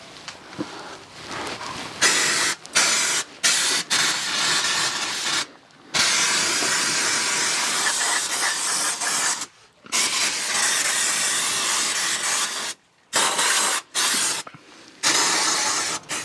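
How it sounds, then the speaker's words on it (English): Aerosol brake cleaner spraying onto a rusty BMW rear differential, loud close hissing bursts of varying length separated by short silent pauses. "just give the differential a final clean with some brake cleaner"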